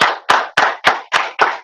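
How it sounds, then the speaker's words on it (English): Hand claps for a keynote speaker at a 2020 conference: about six sharp, evenly spaced claps, close and loud, with nothing else behind them. "Please give a big round of applause for Vamsi."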